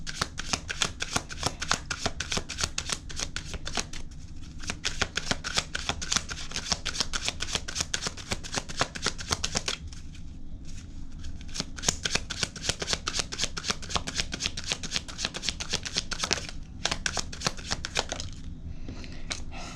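A deck of tarot cards is shuffled close up in long bursts of rapid riffling flutter, each burst separated by brief pauses, with no voices.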